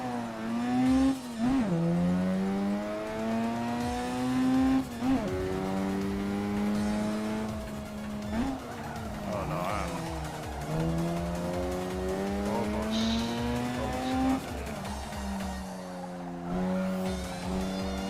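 Tire squeal from a race car in the Assetto Corsa sim racing game on a mountain touge road, with a steady revving engine whose pitch climbs and drops through gear changes and squealing tires running alongside it at the limit of grip.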